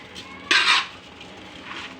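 Salt is mixed into grated bottle gourd for a pickle: one short, close scraping swish of a spoon against the bowl, then quiet with a faint second rustle.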